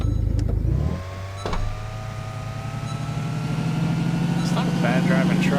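A truck engine rumbles steadily while the truck is driven in a video game, starting with a loud low roar and then settling into a sustained hum that slowly rises in pitch.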